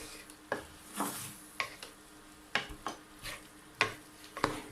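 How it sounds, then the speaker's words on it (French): Pineapple stirred in a pan for a three-flavor fish dish, with a spoon scraping and tapping the pan in irregular strokes over a faint sizzle, close by and without talking. "On va mélanger."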